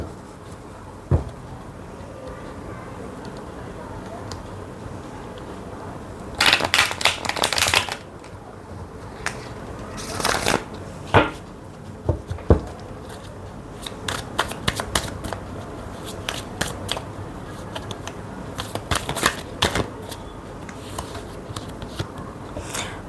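Tarot cards being shuffled close up with no talk, a dense riffling burst followed by scattered snaps and taps of the cards as they are handled and laid out.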